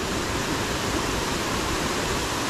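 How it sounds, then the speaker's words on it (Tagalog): A river rushes over large rocks, a dense unbroken roar of flowing water that holds steady and loud throughout, with no voices. "Hindi na ito sapa. Ilog talaga ito eh."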